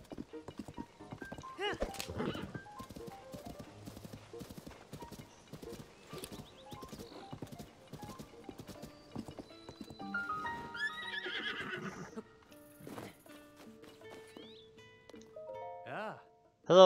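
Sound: horses at a stable in video game Zelda Tears of the Kingdom

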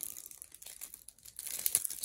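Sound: tearing open a Marvel Champions card pack wrapper

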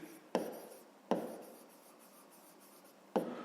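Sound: writing on paper

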